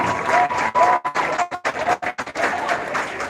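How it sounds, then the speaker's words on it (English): Crowd applause and cheering for a Cadet Corps at a Heritage Day event, a dense, steady clatter of many hands with brief dips and a few whistle-like tones riding over it. "Ladies and gentlemen, a big round of applause for Cadet Corps."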